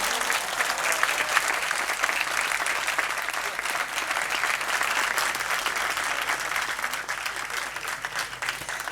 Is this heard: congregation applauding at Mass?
yes